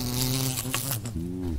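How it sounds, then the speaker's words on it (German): A wasp trapped inside the helmet of a motorcyclist riding a BMW S1000RR buzzes loud and very close, its droning whine shifting in pitch as it moves, heard over rushing wind noise. "Einfach mal eine Wespe im Helm."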